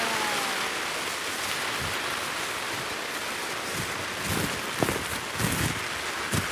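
Steady rain falls outside, a dense wash of broadband hiss that holds evenly throughout, with a few louder patters and splashes toward the end and no talk.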